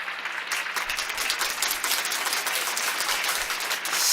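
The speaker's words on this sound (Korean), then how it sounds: "여러분 대구 서구교회 할렐루야 찬양대를 큰 박수로 맞이해 주시면 고맙겠습니다." A church congregation at a Sunday afternoon service in Daegu gives the Hallelujah choir a warm welcome with sustained, even applause. The clapping stays bright and full from start to finish, with no voices over it.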